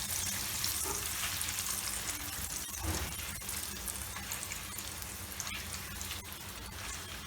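Banana chips crackle and sizzle steadily in hot oil, a dense continuous fry with a few soft knocks as the slices are turned over, no voices.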